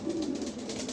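A pet female pigeon with pomegranate-coloured eyes gives a single short, low coo at close range against a quiet background.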